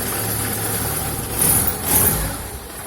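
A 1986 car engine running steadily after a noise under the car was fixed, a smooth continuous hum with two brief swells in loudness, close and without talk.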